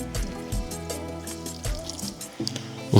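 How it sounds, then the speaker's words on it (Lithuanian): Hot water is poured into a Grand Feu pot holding beef cheeks beside a Kamado grill, with short gurgling splashes and a rising filling tone, plus a few knocks near the end. "Pilam verdančių vandeniu"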